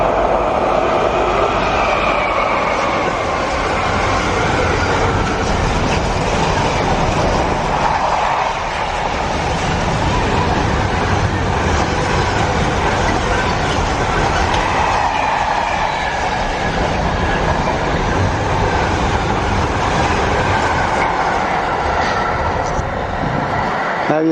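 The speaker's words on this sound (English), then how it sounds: "Our train should be in front of that one that's just gone, in front of that freight train." A loud, steady rumble of a freight train rolling past at close range, a continuous roar of wheels and wagons lasting the whole time.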